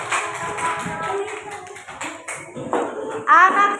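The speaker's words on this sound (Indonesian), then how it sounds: "Tepuk tangan untuk kelompok 3." Children in a classroom clap for a group that has just presented, with scattered rhythmic claps mixed with young voices and chatter, ending in a brighter burst of voices.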